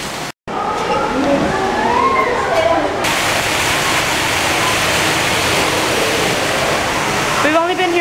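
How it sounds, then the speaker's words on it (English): Constant roar of a zoo waterfall heard from a walkway behind the falling water, a steady broadband rush filling the whole stretch, with people talking and exclaiming over it near the start. "We're behind the waterfall."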